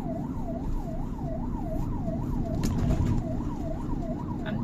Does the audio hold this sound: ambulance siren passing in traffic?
yes